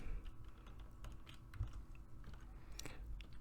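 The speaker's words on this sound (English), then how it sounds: "Typing with one hand." Computer keyboard typed with one hand, a quiet scatter of irregular key clicks over a low background hum.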